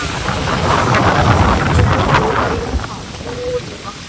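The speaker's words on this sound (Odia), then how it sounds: "ଏଇଭଳିଆ ବାତ୍ୟା ଖୋଲୁ ଖୋଲୁ କେମିତିକା ପବନ" Strong cyclone winds roar during a storm, a loud, continuous buffeting rush close to the microphone that surges and eases, with a voice speaking briefly underneath.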